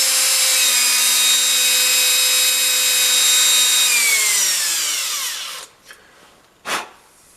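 A power drill spins a wet cotton swab to clean a valve seat on a 1969 112 engine, whining loud and steady, then winding down. It stops around the sixth second, followed by a couple of brief rubbing touches.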